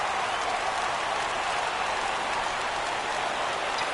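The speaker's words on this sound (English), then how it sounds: "Crowd gets up for the 3-2" Baseball video game crowd on PS4 swells into a steady, dense roar on a full count, a continuous hiss-like wash of cheering and clapping with no talk over it.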